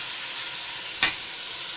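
Tomatoes, onion, bay leaf, cardamom and black pepper sauté in a pot over the heat, giving a steady soft sizzle with one brief stir or clink partway through and no talking.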